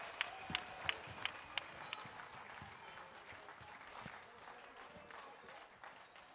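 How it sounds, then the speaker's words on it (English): Applause at an under-13 international indoor baseball tournament in Vienna, a faint, distant crowd clapping steadily in a large hall, with a few sharp individual claps standing out early on. "Applause."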